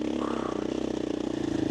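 Dirt bike engine changing down a gear while riding in sand: a close, steady pulsing motor throb with rapid rhythmic firing and wind rush, slightly rising toward the end.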